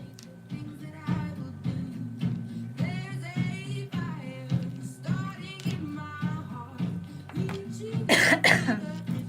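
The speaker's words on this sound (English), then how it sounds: "where's this cough?" A person coughs repeatedly in a radio studio. The rough coughs and throat-clearing come in a rapid, continuous series over a background hum and get louder toward the end.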